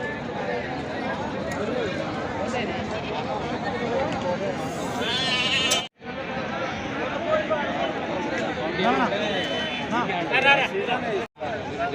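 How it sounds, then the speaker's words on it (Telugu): Rams, sheep and goats bleat at a busy village livestock market. Repeated overlapping bleats sound near and far over crowd chatter, and people talk throughout. "ఇవి పొట్టేళ్ళు."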